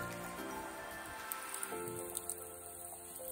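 Steady rain falls outdoors in a village, a continuous hiss of drops on surfaces with a few sharper patters and small knocks, moderately close and with no talking.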